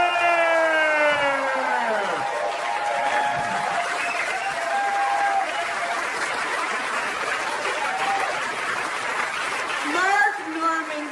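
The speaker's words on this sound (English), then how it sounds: "Put your hands together for Amy Schumer!" Loud, steady applause and cheering from a comedy club audience welcoming Amy Schumer, broad and continuous, with a sweeping siren-like music tone fading in and out over it.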